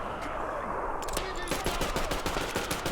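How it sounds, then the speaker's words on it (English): Rapid gunfire from a first-person shooter, Metro Exodus, with a dense burst of repeated shots over a steady ambient bed, loud and close throughout. "Shot him in the collarbone."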